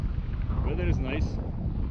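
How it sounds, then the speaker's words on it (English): Strong wind blows across a boat at sea, a constant low roar buffeting the microphone, with a faint voice briefly audible underneath. "So, so strong wind."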